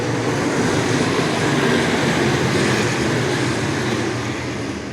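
Stock cars at full throttle coming out of turn four at Clay County Speedway, a loud, continuous engine roar that holds steady and eases slightly toward the end, with no talking.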